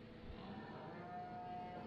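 Cattle mooing in the Farming Simulator video game on the BallinCraig Estate farm, a single faint, drawn-out low moo heard softly in the background.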